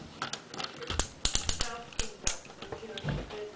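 Plastic joints on a Transformers Fall of Cybertron Voyager Class Soundwave toy click and snap as the arms fold out at the elbow, a run of sharp close taps and ratchety clicks, with no one speaking.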